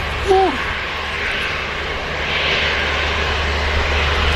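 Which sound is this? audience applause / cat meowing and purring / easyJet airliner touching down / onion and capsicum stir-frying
easyJet airliner touching down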